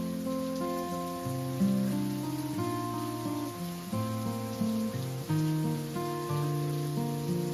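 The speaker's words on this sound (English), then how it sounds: "Wow, it sure is raining." A steady July downpour over a garden after a drought gives a continuous, moderate hiss of rain, partly masked by prominent melodic tones layered on top throughout.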